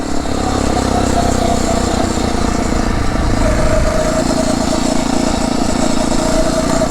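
A Phatmoto motorized bicycle running its stock exhaust drones close and loud with a steady, buzzing small-engine rumble that holds constant throughout.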